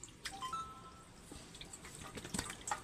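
Scaled, trimmed hilsa fish are rinsed one by one in clean water, making soft, close drips and light splashes over a quiet background.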